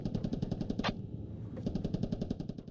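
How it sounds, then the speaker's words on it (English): Distant automatic gunfire rattles in rapid bursts during a large infantry battle in the video game Squad, with a brief sharp crack in the middle and a continuous mechanical drone underneath. "There's so much gunfire."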